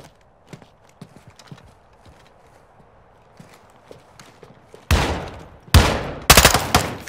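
Bursts of gunfire in Modern Warfare II campaign play on Xbox Series X, three loud volleys in the last couple of seconds after a quieter stretch of faint clicks and scattered ambient sounds.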